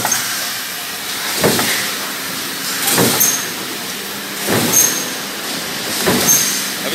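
A 200-ton press machine forms a Panasonic part, giving repeated heavy stamping thumps roughly every one and a half seconds over a constant loud factory hum and hiss.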